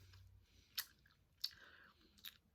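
Nicotine gum is chewed close to the mic, quiet and wet, with three sharp clicky smacks spaced apart over a soft background.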